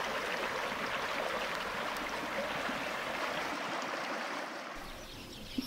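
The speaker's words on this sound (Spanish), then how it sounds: "qué alegría nos da ver correr el agua una temporada más de otoño por nuestro río." The Guadiamar river flows again after drought, a steady broadband rush of running water that stays constant and fairly close, easing slightly near the end, with no voices.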